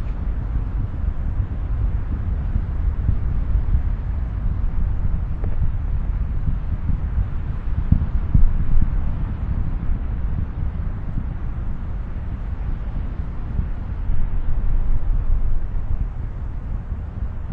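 Space Shuttle Atlantis solid rocket boosters roaring during launch, heard as a loud, continuous, distant broadband rumble that holds steady throughout.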